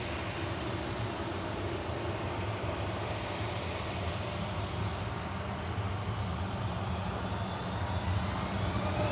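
An airplane departs Manchester Airport on flight 3836 to Milan. Its jet engines give a continuous, fairly distant roar that stays even and unbroken throughout.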